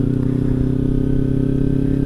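A Kawasaki Ninja 300 motorcycle rides along with a steady, loud engine drone and road rumble, no voices.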